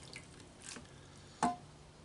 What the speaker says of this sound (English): we're just going to take our chilies right out, kind of drain them a little bit